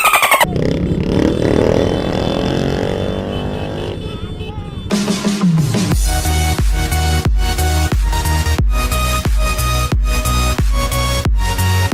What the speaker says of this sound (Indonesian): motor apa yang dipakai polisi? Yamaha apa ini? 4 silinder pakai gardan.